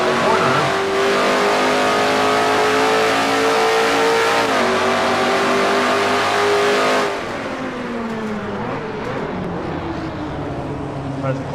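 Race car engines in a racing video game held at a loud, steady high-rev whine, then dropping and shifting pitch as the cars slow through a corner, with commentary spoken over the engine noise.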